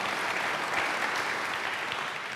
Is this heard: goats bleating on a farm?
no